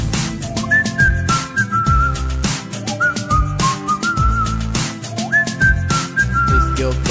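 A bright whistled melody made with the lips carries a repeating hook over a loud backing music track with a steady beat, and no one speaks.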